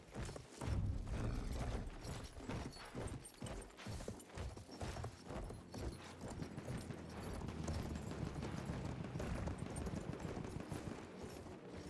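Horse galloping in the World War I shooter Battlefield 1, a steady loud drumming of hooves mixed with clattering mechanisms and distant gunfire throughout, with no clear whinny standing out.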